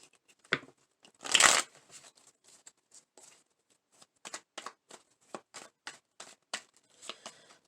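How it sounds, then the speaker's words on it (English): Cards being shuffled close up: a loud riffle burst, then a string of quick crisp card snaps and flicks in an uneven rhythm. "Let's shuffle once."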